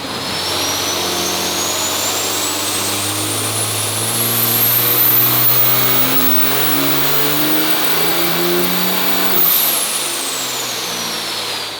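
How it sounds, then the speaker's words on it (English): A 2012 6.7L dually pickup engine roars under load on a dynamometer at a steady loud pitch, with a rising turbo whistle climbing high, then cutting off sharply near the end as the pull finishes. "made 16 dyno pulls trying to chase it"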